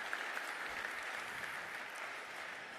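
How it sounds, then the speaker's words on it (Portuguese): An audience applauds at a cybersecurity talk, soft and fairly distant, with a steady wash of many hands clapping that holds evenly throughout without voices. "uma grande e merecida salva de palmas para todos"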